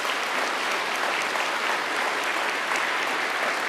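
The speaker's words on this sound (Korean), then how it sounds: "우리 형제님과 국진님 두 분 자녀님께 우리 감사의 박수를 올리겠습니다" Loud, dense applause from a church congregation at a Sunday service, a continuous even wash of clapping with no voices on top.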